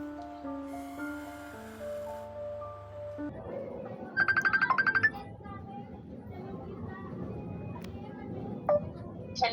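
Phone ringing during a call to a sibling, a short electronic tone pattern that repeats quietly, with a brief melodic ringtone burst partway through and soft background noise.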